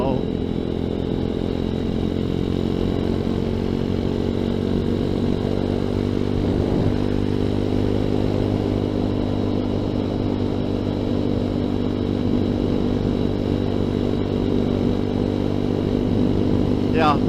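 A ZS190 Grom clone motorcycle cruises at a steady, relaxed pace on a chilly Wisconsin ride, its engine a loud, close, continuous drone with small shifts in pitch and no hard revving.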